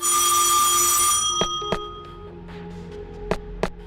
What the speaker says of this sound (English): Why does it sound like there is a phone in here, even though there is no... Oh, wait, there actually is a phone.